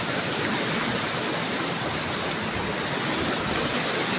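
Water pours steadily from an underground spring, a loud, unbroken rushing flow close by with no voices.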